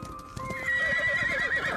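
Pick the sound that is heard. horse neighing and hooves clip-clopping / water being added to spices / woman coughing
horse neighing and hooves clip-clopping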